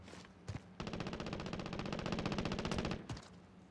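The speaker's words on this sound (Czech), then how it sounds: "Tady někdo se střílí." Sustained automatic machine gun fire in Call of Duty: Modern Warfare, a rapid unbroken burst of shots running about two seconds, preceded by a couple of single loud reports and followed by a final shot.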